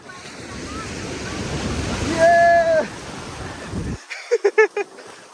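Sea surf on a beach rushes and churns in a continuous broad wash, loud and near, with voices shouting over it before the water noise cuts away to short spoken bursts.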